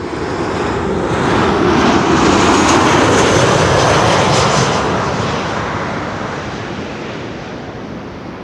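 A Ryanair airliner arriving from Dublin lands on runway 06 at Amsterdam Schiphol. Its broad, roaring jet noise swells to a loud peak as it passes close, then slowly fades, with no talk.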